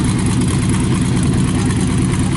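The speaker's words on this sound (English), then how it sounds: "Here's that little Track T Roadster idling." A Track T Roadster hot rod idles at a car show, a steady, loud, rumbling engine drone heard up close without pause or talk.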